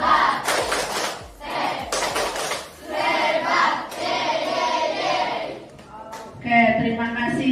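Primary schoolchildren standing in an Indonesian classroom perform the 'tepuk hebat' clapping chant, loud group chanting with bursts of rhythmic clapping in several sections, led by one pupil.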